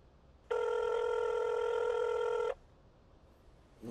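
A single telephone ring sounds for about two seconds, a bright steady electronic tone, then quiet room noise follows.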